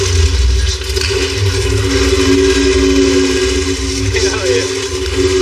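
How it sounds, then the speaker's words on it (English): A rebuilt engine in a custom Impala truck idles loud and rough at close range, a steady low rumble with mild swells in intensity. "That engine sounds so bad."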